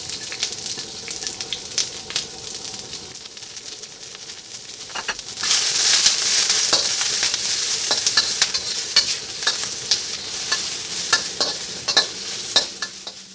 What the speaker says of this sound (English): now we're going to stir fry the onions